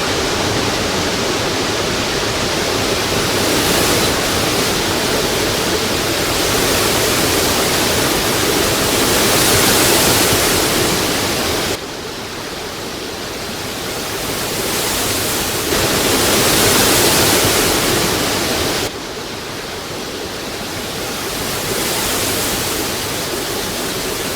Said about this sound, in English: The Kparia Falls, on the other hand, collects into a large, beautiful pool, making it ideal for swimming.